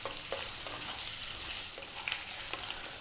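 Potatoes fry in a pan over above-medium heat, giving a steady, dense sizzle with faint crackles and occasional soft pops, close and continuous throughout.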